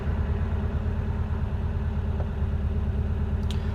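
A 1968 VW Type 3 squareback with an 1835cc engine idles steadily close by, a continuous low rumble with no talk over it.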